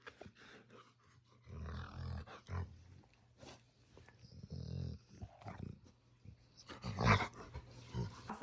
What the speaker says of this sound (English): he makes this crazy purr noise,